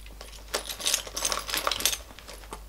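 Keys dropping into a small Chanel mini bag, a brief flurry of metallic clinks and jangles up close, with no talking.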